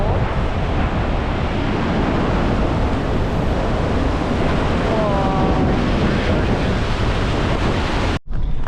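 Mist Falls waterfall in Yosemite, heard from the top, gives a loud, constant, broadband roar of rushing water mixed with wind buffeting the microphone. It cuts off abruptly just before the end.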